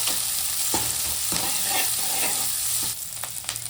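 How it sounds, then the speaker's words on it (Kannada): Garlic roasting in oil in a frying pan for a mutton head sambar, loud continuous sizzling with stirring scrapes, close up and without talk. "ಮತ್ತೆ ಬೆಳ್ಳುಳ್ಳಿ ಹಾಕ್ತಾ ಇದ್ದೀನಿ. ಸ್ವಲ್ಪ ರೋಸ್ಟ್"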